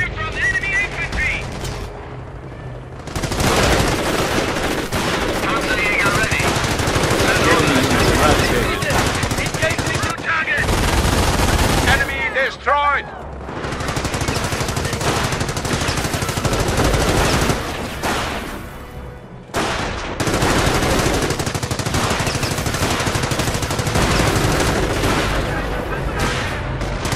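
Sustained machine-gun and rifle fire from enemy infantry in a Company of Heroes Operation Market Garden battle, heavy bursts rattling on for long stretches with brief lulls, mixed with occasional voices.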